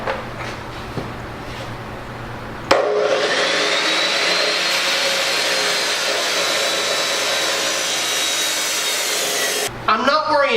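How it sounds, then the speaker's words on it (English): Steel legs for a welding cart are cut in a shop with a loud, continuous high-pitched grinding or cutting whine lasting several seconds, preceded by quieter shop noise and ending abruptly. "now I'm going to start cutting out the 4 legs that connect the top and bottom layers"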